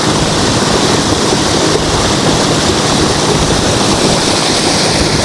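A decorative waterfall at a forest temple in Laos gives off a steady, loud, unbroken rush of falling water that fills the whole moment, with no voices.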